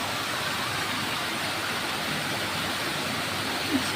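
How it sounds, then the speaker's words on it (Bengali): Heavy rain pouring down during a downpour, a dense, unbroken hiss of steady loud noise with no pauses and no talking. "আকাশ ভরা খালি বৃষ্টি আর বৃষ্টি"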